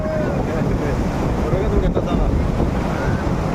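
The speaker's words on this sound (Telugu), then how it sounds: "ఇది కదా బీచ్ అంటే" Ocean surf at the beach near Rushikonda in Vizag washes in as a constant broad roar, mixed with heavy wind buffeting the microphone.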